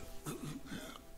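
A wounded man coughs roughly in the video game Lord of the Rings Online, a couple of short, faint, throaty bursts heard alone within about a second.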